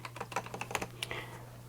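Rapid irregular keystrokes on a mechanical keyboard fitted with Kailh Speed Copper switches, close and fairly quiet over a steady low hum, with no one speaking.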